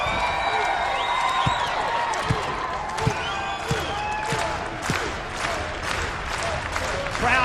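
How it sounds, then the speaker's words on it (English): A wrestling crowd in Scotland cheers and applauds for a female wrestler during an arena match, a steady loud roar with scattered whoops and sharp thuds from the ring. "Crowd here in Scotland firmly showing their support for ODB."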